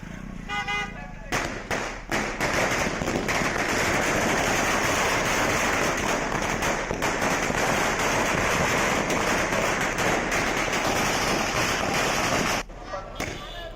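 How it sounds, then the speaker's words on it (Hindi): A long dense burst of firecrackers crackles and pops without pause at a celebration at Mungeli Chowk, loud and close, with traffic and horns faintly around it before it stops abruptly. "मुंगेली चौक में यह आतिशबाजी की गई है।"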